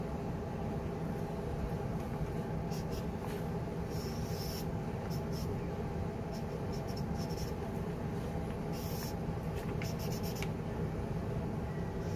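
Pen strokes on a writing pad during a live business lecture: scattered short scratchy marks of varying length over a steady hum of room noise, fairly faint and close, with no talking.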